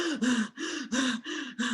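Six quick, deep, evenly paced breaths are drawn in through the mouth, each a short gasp with a faint voiced edge, close and fairly loud with brief pauses between them.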